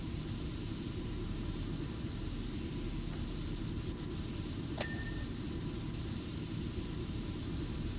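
A pressure washer sprays a tank wheel in PowerWash Simulator, a steady, unbroken broadband hiss that holds at an even level throughout, with a faint clink near the middle.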